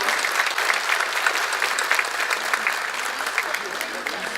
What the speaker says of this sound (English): If you could please stand and receive a round of applause for all of your great effort.